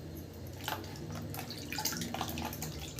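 Fish eggs dropped into a bowl of fresh water for washing in a home kitchen, making soft, close splashes and drips over a low background hum.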